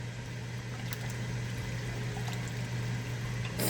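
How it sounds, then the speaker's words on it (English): Water pours into a pan of massaman curry, giving a continuous liquid rush and bubbling at steady level, with a low hum underneath and a few small clinks. "A little bit more water in there."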